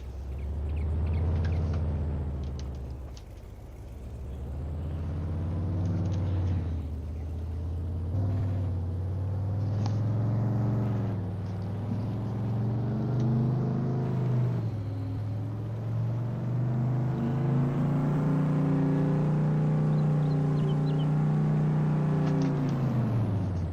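Little red tractor engine in Farming Simulator 22, a steady close rumble whose pitch dips and then climbs as the engine revs, with no talk over it.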